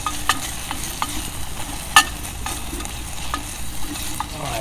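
Onion fries in a metal canteen cup over an open fire, a steady crackling sizzle with scattered pops and a sharp metallic clink of the utensil against the cup.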